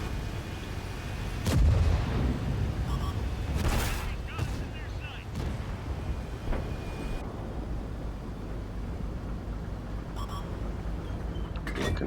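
A tank cannon fires in a tank video game, one loud boom with a rumbling tail, followed by quieter game noise and a few fainter thumps.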